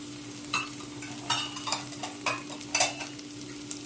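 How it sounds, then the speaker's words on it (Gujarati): Capsicum and small carrot pieces sauté in a pan for veg soya chunks pulao, with soft sizzling and repeated scraping stirs at a steady, moderate level and no talking. "હવે આપણે આને 1 મિનિટ માટે સંતળાવા દેવાનું છે."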